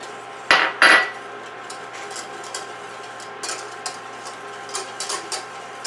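A utensil stirs vanilla and brown sugar into melted butter in a pan, opening with two sharp clinks and followed by light scattered taps and scrapes, close and fairly quiet.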